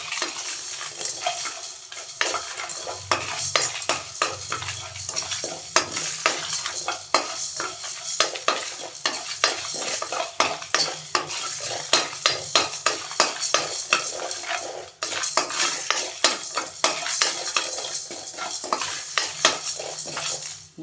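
Dried red chillies and black pepper dry-roasting for Chettinad country chicken sukka, stirred in a pan: a long run of rapid scraping and clinking strokes against the metal over a faint sizzle, close by, with no talking.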